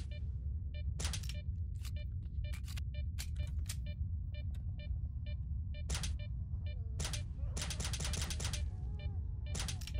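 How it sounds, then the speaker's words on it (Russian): Gunfire in the video game S.T.A.L.K.E.R., rapid sharp cracks in bursts and single shots over a low rumbling ambience, with a ticking rhythmic sound running through. "Так, там где-то стрельба."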